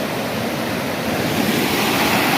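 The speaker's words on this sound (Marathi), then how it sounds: "खूप सुंदर असा धबधबा आहे" A monsoon waterfall at Vangni near Mumbai roars as a dense, steady rush of falling water, loud and close with no pauses and no voices.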